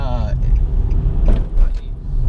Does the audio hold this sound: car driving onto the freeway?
yes